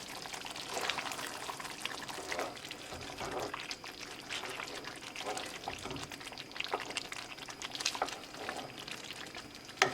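Fish and potato curry is stirred in a pot, with repeated scraping and wet sloshing strokes over a steady low simmering sizzle, close and moderately quiet.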